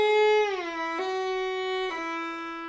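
A violin holds a bowed note, glides smoothly downward in a shift, then sounds two brief intermediary ghost notes as it moves through the descending pitches, played clearly and alone.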